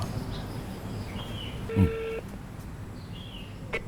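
A phone call to a consumer service line of Indonesia's Financial Services Authority (OJK), with a brief cluster of dialing tones near the middle over a steady room murmur, plus a couple of faint chirping beeps.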